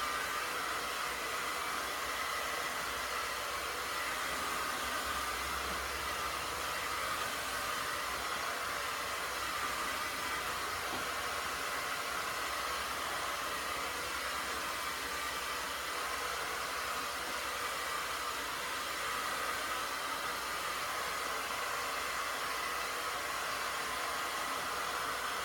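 A hair dryer blows air steadily down a round brush in a salon styling session, a constant loud whooshing drone that runs unbroken throughout with no talk.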